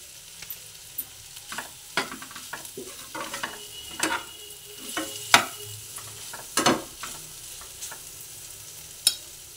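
Fried egg with garam masala sizzling in a pan while being stirred for egg pulao, a continuous close crackle punctuated by sharp scraping and tapping of the spatula against the pan, with no voices.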